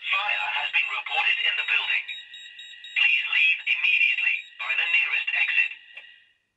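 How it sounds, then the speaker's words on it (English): A C-Tech voice sounder on a Hochiki addressable fire alarm system plays a recorded spoken evacuation message during a weekly test. The message comes in loud, tinny bursts with a sweeping tone, separated by short gaps, and falls silent at the end. "We have a C-Tech voice sounder there."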